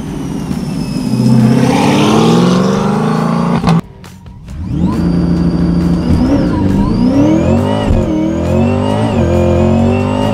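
An 850 hp Lingenfelter Stage 3 supercharged C8 Corvette with a full exhaust system and cold air intake revs loudly up close, rising and falling through the rev range with a brief cut near the middle before climbing again.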